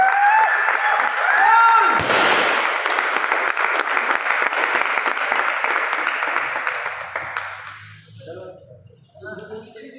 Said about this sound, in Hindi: तालियां हो जाए एक बार।